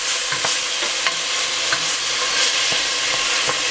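Diced onion frying in butter sizzles steadily in a pan while a utensil stirs it, with scraping knocks over the constant hiss and no talking.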